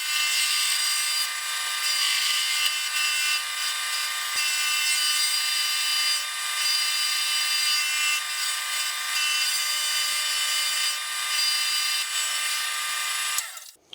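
A metal lathe cutting a radius on a taper attachment part gives a steady, loud, high-pitched whine with fairly even tone for about fourteen seconds, then cuts off abruptly at the end.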